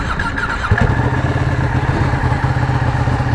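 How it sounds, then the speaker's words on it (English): Ducati motorcycle engine, unused for over a year, catching and settling into a steady low idle, loud and close, with a thump as it fires and continuous mechanical clatter throughout. "Haven't fired this bike up in over a year. Let's see how she does."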